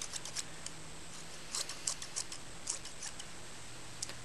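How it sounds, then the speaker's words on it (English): Thinning scissors snip at hair close to a dog's ear during grooming, giving faint, light metallic clicks in small irregular clusters over a quiet background. "what we can just do with those is just use the thinning scissors again,"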